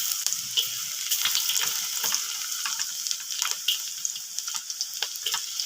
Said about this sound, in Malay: Kita masukkan bagian bawang putih.